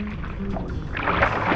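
Chunks of lake ice on Lake Ontario break and sink, heard close as continuous sloshing and gurgling water with a brighter crackling swell near the end, over a constant low rumble.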